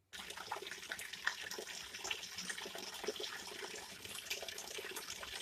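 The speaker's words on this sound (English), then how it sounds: "you may notice that there's some water running out of the pipe right here" Water trickling and splashing steadily from a pipe at a cabin, a continuous close-up watery hiss with small irregular splashes throughout, no voices.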